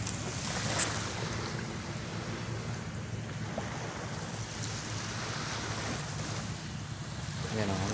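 Sea waves at a beach landing site wash and roll continuously, with a breezy rushing hiss, fairly close and steady throughout.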